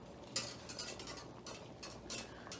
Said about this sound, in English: I'm just stirring this to keep an eye on it.